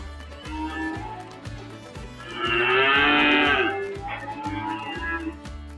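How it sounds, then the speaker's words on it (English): Dairy cattle moo loudly and at length as they file out after milking, one long close bellow rising above a steady rhythmic thumping of farm machinery, with fainter lowing before and after. "So last row of cows going out."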